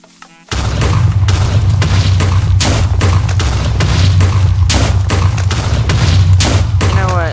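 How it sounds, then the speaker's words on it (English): Repeated TNT explosions in the video game Minecraft, a dense, loud run of overlapping booms and blasts starting abruptly after a brief quiet moment and continuing without pause. "Look at the TNT flying everywhere, I love it."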